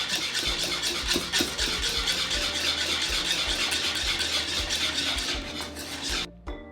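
Whisk scraping and clattering steadily through a thick cooked cake filling in a metal pot, a continuous busy stirring rattle close up that cuts off abruptly near the end.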